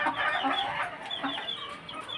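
A rooster clucks repeatedly in a farmyard flock where guinea fowl chicks are kept, a run of close, busy clucks and short calls with no talk.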